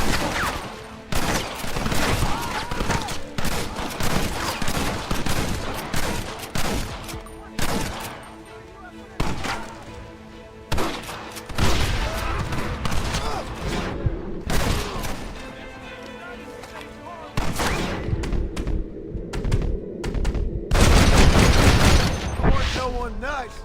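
Sustained Red Dead Redemption gunfight with dense, repeated shots and bursts over twenty-odd seconds, loud and close, broken by brief lulls and occasional heavier booms, with shouted voices mixed in.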